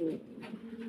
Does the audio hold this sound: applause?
no